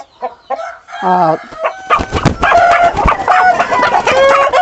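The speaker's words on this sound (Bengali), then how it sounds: "এখানে বারো প্রজাতির মুরগি আছে" Several roosters crow loudly and close by on a fancy-breed chicken farm, overlapping with steady clucking from a flock of chickens.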